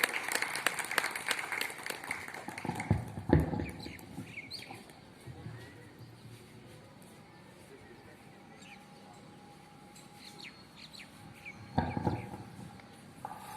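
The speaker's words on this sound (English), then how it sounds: "Please give big round of applause to all of them." Applause for school teachers at an Independence Day celebration, a burst of clapping at the start that fades to quiet murmur, then rises again briefly near the end, with birds chirping faintly outdoors.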